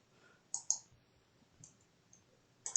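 Sharp mouse clicks while selecting a chart type from the Insert tab in Microsoft Excel: two quick clicks near the start, a faint one mid-clip and a final pair at the end, close and clear over quiet room tone.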